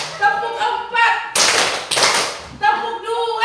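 Teachers at a training workshop in Kupang clap together on cue, a few sharp unison claps in the middle, with a leader's voice calling before and after.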